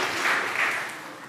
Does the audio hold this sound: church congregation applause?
yes